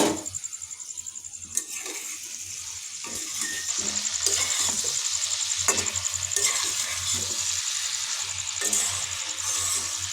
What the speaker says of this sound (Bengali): এবার টমেটোগুলো দিয়ে দেওয়া হচ্ছে।